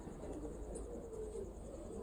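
A pigeon of a large, brown-lineage bloodline in a Meerut village loft gives a soft, low continuous cooing that sits steadily under quiet background noise, with no clear breaks.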